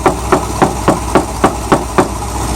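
A car engine idles while its exhaust makes a knocking noise: eight or nine sharp, evenly spaced knocks sound about four times a second over a steady mid-pitched engine drone, recorded up close with no talking.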